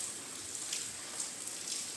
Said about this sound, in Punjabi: ਲਓ ਜੀ ਮੀਂਹ ਹੋ ਗਿਆ ਤੇਜ਼ ਹਟ ਹਟ ਕੇ ਆਉਂਦਾ ਮੀਂਹ